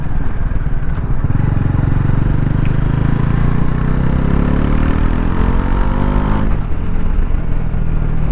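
A Bajaj Pulsar NS400 Z 400cc motorcycle engine revs loudly up close, its pitch climbing steadily before dropping back sharply, with a speaking voice briefly underneath.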